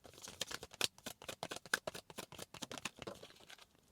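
Tarot cards are shuffled by hand in quick, crisp riffling bursts, a steady run of close, papery flicks and taps that slows and softens near the end, with no talking over it.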